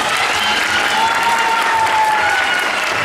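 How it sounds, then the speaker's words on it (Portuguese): An audience at a Garota e Garoto Fashion 2011 pageant results ceremony applauds a contestant, dense steady clapping from a crowd lasting the whole stretch without pause. "Uma salva de palmas para ela."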